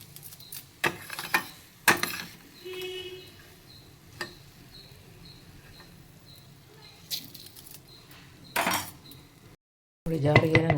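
Fried urad dal, coriander seeds and cumin are scraped from a pan into a jar, giving quiet, scattered clinks, taps and rattling patter of seeds against metal and glass, with short pauses between.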